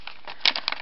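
Coffee-stained paper for a steampunk junk journal crinkles close by in a few quick, bright rustling bursts. No one speaks.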